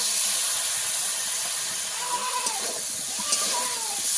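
Water poured into spices frying in a pan for a magur fish and green banana curry sets off a loud, steady steam hiss lasting the whole moment, with faint clinks and a brief faint voice beneath.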